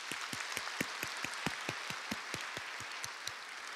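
A church congregation claps together at a Sunday morning service to welcome new members, a steady wash of many hands with distinct sharper claps standing out, moderately distant in a large hall.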